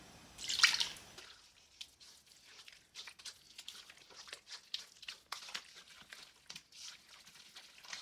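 A milk, egg and vanilla mixture goes into peanut butter and jelly cake batter by hand. A soft splash opens the pour, followed by faint, scattered liquid drips and dribbles in a quiet room.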